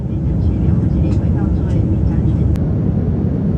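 Steady, loud broadband roar inside the cabin of an EVA Air Boeing 787-9 in flight during light turbulence, a continuous low engine and airflow rumble filling the whole clip without a break.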